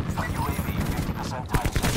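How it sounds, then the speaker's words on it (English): Rapid gunfire in a first-person shooter as a UAV scorestreak is shot down, dense bursts of shots running throughout with a louder cluster near the end, mixed under game noise. "someone's shooting down my score streak"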